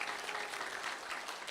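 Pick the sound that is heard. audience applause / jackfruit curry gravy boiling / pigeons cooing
audience applause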